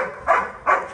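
A dog barks twice near a kennel at an old house plot, two short, fairly close barks spaced about half a second apart over a quiet background.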